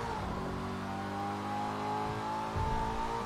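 An Audi RS3 engine in a video game revs hard through a getaway, a loud, continuous climbing roar with rising pitch and a brief surge near the end, with no one talking over it.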